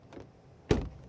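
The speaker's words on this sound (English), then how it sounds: "Door closing sound" A Mazda 6e car door shuts with a single solid thud, preceded by a faint latch click, heard close and alone in a quiet setting.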